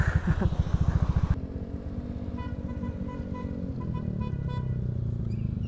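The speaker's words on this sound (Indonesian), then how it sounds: "gue panasin motor dulu lah" A Honda BeAT Street scooter fitted with a 130cc bore-up kit idles while warming up, first a loud, close, rapid chugging exhaust pulse, then a steadier lower idle hum.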